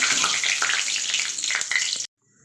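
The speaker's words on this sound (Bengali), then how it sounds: "এবার আমি একটু জিরে দিয়ে দেবো আর দুটো গোটা তেজপাতা দিয়ে দেবো।" Whole cumin seeds and two bay leaves crackle and sizzle in hot oil, a loud, dense, steady fry that runs on before stopping abruptly, with no voices over it.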